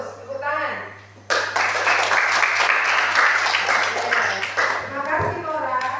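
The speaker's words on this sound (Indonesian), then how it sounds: "Tepuk tangan." A class bursts into sudden applause, a dense round of clapping lasting several seconds, while a voice speaks just before and through the end.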